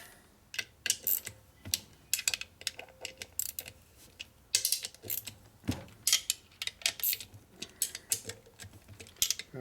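Torque wrench ratcheting while tightening motor bolts on a 1949 Harley-Davidson Panhead 74ci engine, quick bursts of close, crisp metallic clicks in irregular groups with short pauses between strokes.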